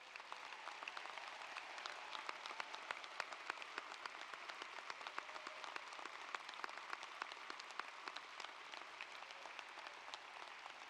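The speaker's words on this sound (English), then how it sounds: "honor them one final time with thunderous applause" Sustained applause from a large ceremony crowd honoring emeritus faculty at a university Latin honors event, steady dense clapping with sharp individual claps standing out, heard from some distance.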